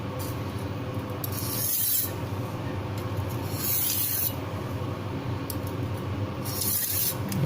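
Knife blade drawn across a sharpening stone in slow, repeated rasping strokes, several scrapes rising and falling in a steady rhythm, close and fairly loud.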